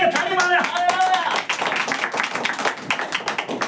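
A church congregation claps hands together in a steady run of sharp claps during a worship service, mixed with a voice speaking and singing over the clapping.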